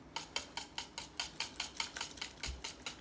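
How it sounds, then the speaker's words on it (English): A whisk clicks steadily against a bowl while flour is slowly worked into Dutch baby batter, about a dozen quick, evenly spaced taps, close and fairly soft. "Now we're going to slowly whisk in the flour."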